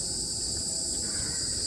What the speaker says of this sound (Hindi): दोपहर में वो झींगुर की